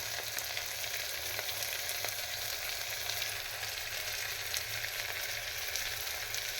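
Asafoetida and spices sizzle in hot oil as a tempering for rice upma, a steady, dense crackle of frying with scattered small pops, close and continuous, with no voices.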